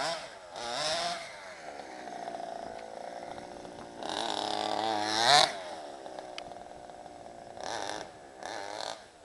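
Small gas engine of an FG Monster radio-controlled truck revving in repeated bursts, buzzy chainsaw-like whine rising and falling over several throttle blips, nearby and moderately loud.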